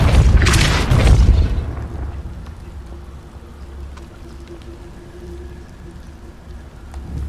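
A Confringo blasting spell exploding in Hogwarts Legacy, heard as a loud, close boom with a crackling burst that fades into a low rumbling, hissing tail, with no speech.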